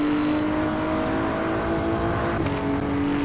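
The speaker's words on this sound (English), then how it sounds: "We're now on the start straight. Full throttle to the line." A BMW M4 GT3 Evo at full throttle down the start straight at Laguna Seca in Assetto Corsa EVO, its engine a steady, high-revving roar held at a constant pitch throughout.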